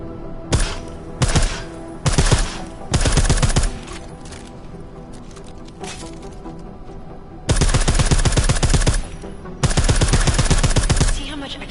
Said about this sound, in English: I like how silencers reduce sound